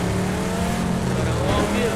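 Car driving in the battle-royale game PUBG, a loud steady engine drone with sustained tonal hum held for two seconds, close and continuous, with voices talking over it.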